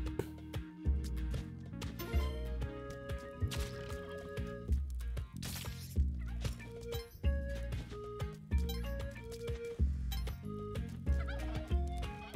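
Turkeys gobble in the video game Spelunky 2, repeated warbling calls mixed into loud, rhythmic game music that plays throughout.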